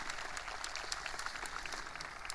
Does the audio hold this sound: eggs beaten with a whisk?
no